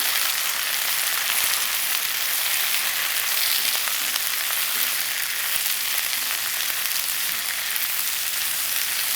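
A Cajun stir fry sizzles in a hot pan as it is turned with spatulas, making a steady, dense hiss and crackle close by that stays even throughout, with no talking.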